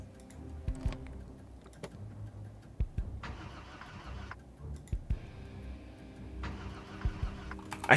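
A truck engine in the Project Zomboid video game cranks in two bursts of starter whirring that fail to catch, set over a low background rumble with occasional clicks.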